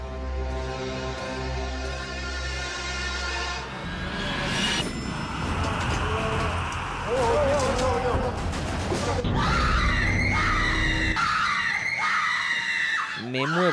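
Two people scream together in a horror-themed prank elevator, loud and close, with long, overlapping shrieks over rumbling noise and commotion.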